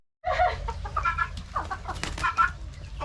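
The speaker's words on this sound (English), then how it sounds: "That old game hen there. Well, she don't know much about backing down." Game hens squabble and cluck in a farmyard, a dense run of close, loud clucks and squawks overlapping continuously with no talk.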